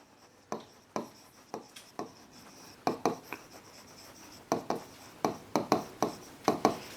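Marker or chalk strokes on a classroom board come as a string of crisp taps and short scratches, irregular then quickening, near and moderately loud, with no speech.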